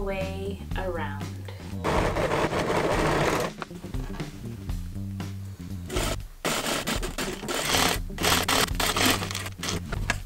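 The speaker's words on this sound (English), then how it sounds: "Now I'm going to sew all the way around." A domestic sewing machine stitches all the way around the seams of wide-leg pleated pants, running in steady whirring bursts with short pauses, close and fairly loud, with some handling of fabric between runs.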